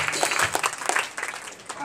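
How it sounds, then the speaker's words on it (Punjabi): Congregation at a church testimony and healing service breaking into applause, a dense patter of many hands clapping at once, fairly close, with voices mixed in. "ਯੋਰ ਦਾ ਤਾਲੀ ਵਜਾਈਏ"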